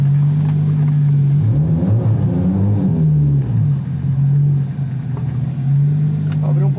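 A 600 hp Toyota Supra built in Brazil drives around the block, its engine a steady low drone that rises and wavers as it pulls away, with a voice briefly over it.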